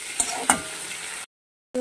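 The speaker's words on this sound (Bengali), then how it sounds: "চিংড়ি খুব বেশি ভাজতে হয় না, অল্প ভেজে 30 সেকেন্ড মতো নেড়ে চেড়ে নামিয়ে নিলেই চিংড়ি ভাজা কমপ্লিট হয়ে যাবে" Shrimp sizzling in hot oil in a pan, a bright steady fry hiss punctuated by two quick scrapes of stirring, then a sudden short silence before the sizzle returns.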